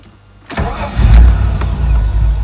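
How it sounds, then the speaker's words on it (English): A Ford Sierra Estate Mk1 4x4 Ghia with a 2.8i engine cranks and catches after brief quiet, firing into a loud, close, rough idle that briefly swells before settling. "let's see if it starts."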